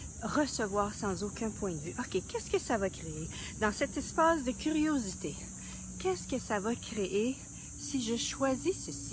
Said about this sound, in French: il y a beaucoup de cigales ici en ce temps-ci